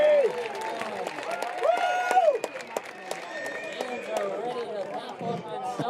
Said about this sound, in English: A casual Sunday crowd, as enlivened as we've heard them all day with that pitch